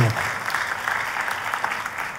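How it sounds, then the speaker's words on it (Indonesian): A church congregation claps together in dense, sustained applause during a sermon, a steady roar of hands from start to finish with no speech on top. "Dan tepuk tangannya yang paling meriah buat Tuhan."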